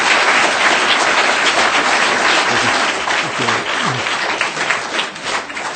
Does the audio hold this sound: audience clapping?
yes